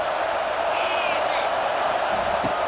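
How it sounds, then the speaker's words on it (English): A football stadium crowd roars in a steady, dense wall of noise, loud and continuous, with scattered whoops rising above the din as it tries to rattle the offense. "This crowd trying to make life miserable for this offense."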